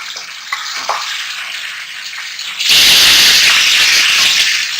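Beef sizzles loudly in a karahi, a steady frying hiss that jumps sharply louder partway through as the meat hits the hot oil, close and continuous with no talk.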